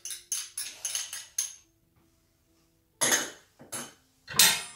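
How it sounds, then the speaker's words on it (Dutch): Cheese and pesto being stirred together in a small bowl: a quick series of clinking, scraping utensil strokes against the bowl, then a pause and a few louder scrapes, close and alone without talk. "En dit roeren we goed door elkaar."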